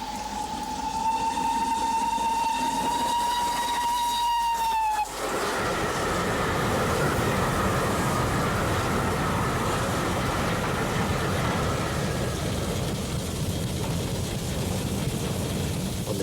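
Express steam train running on the line, a long steady steam whistle for about five seconds then cutting off, followed by continuous loud rolling rail and wheel noise passing close by.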